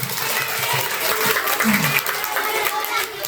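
Schoolchildren clap together at an elementary school Maulid Nabi celebration in Mataram, a dense, steady burst of applause lasting the whole stretch, with a few children's voices calling out over it.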